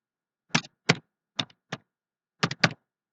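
Six quick separate clicks of a computer keyboard, in a short uneven burst of typing with gaps between the keys. The keystrokes are crisp and close against a silent background.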